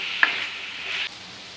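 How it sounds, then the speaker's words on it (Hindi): Mutton frying in a pan with onion and ginger-garlic paste gives a soft, steady sizzle with a quick stirring scrape near the start, close up and brief, with no voices. "मटन अच्छे से भुन चुका है इसमें प्याज में और अदरक लहसुन के पेस्ट में।"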